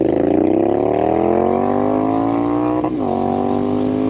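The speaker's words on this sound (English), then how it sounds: "We found the rev limiter." A Triumph Street Scrambler 900 motorcycle engine screams loudly and steadily as its pitch climbs to the rev limiter, then cuts briefly and settles at a slightly lower pitch during a road ride.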